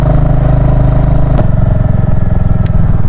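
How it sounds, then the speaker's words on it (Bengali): A Royal Enfield Hunter 350 motorcycle climbs a steep zigzag mountain road toward Darjeeling in first or second gear. The single-cylinder engine drones loud and close with a steady thumping note, and a brief clatter cuts through partway. "পাহাড়ে উঠছি, ফার্স্ট গিয়ার সেকেন্ড গিয়ারের বেশি তোলাই যাবে না"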